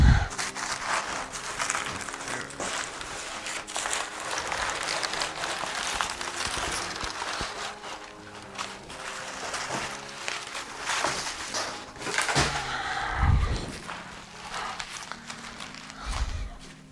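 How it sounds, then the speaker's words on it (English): A gaming PC is unwrapped from its packaging with close, continuous crinkling and rustling of plastic and cardboard, with scattered handling bumps and thuds, and a voice speaks briefly. "as I continue to unwrap this"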